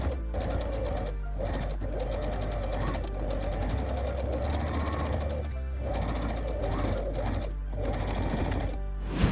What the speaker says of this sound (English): Then press and top stitch again close to the outer fabric edge